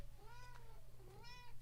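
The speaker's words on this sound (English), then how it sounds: "Had a cat wanting to come in the window." A cat meows at a window wanting to come in, two drawn-out plaintive calls, faint and muffled as if from just outside, over a low steady hum.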